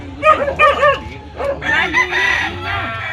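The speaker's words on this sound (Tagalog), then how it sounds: "Dami pa rin manok dito." A rooster crows loudly nearby while chickens cluck around it at a house in Montalban, with a few overlapping calls.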